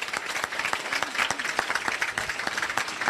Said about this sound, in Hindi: तो तालियां बजा दीजिए बच्चे के लिए आप सभी।